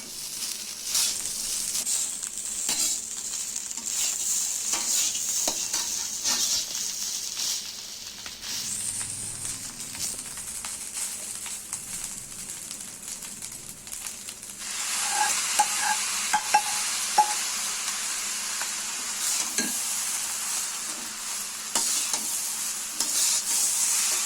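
Pineapple and apple being stirred into rice for Kashmiri fruit pulao, a steady scraping stir over low sizzling, with a brighter hiss rising toward the end and a few sharp clinks of the spoon against the pan.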